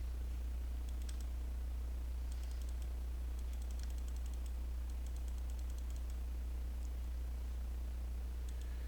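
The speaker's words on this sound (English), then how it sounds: "I'm just gonna mouse click the buffs right now" Faint, quick mouse clicks cast buffs in a multiboxed game run through the Uldaman dungeon, scattered in small clusters over a steady low hum.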